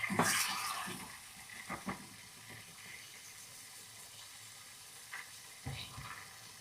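Breakfast sandwich ingredients fry quietly in a crowded pan, a soft background sizzle broken by a few sharp clatters as pieces are flipped.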